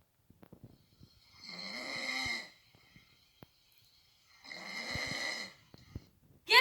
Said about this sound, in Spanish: Un ronquido.